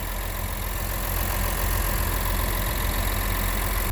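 A 2018 Honda Pilot's engine idles at the exhaust, a steady broadband rumble with a faint rhythmic knock that holds even and loud throughout.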